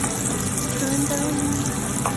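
A bitter melon egg cake frying in a pan makes a steady, close sizzle with soft crackle and a faint background hum.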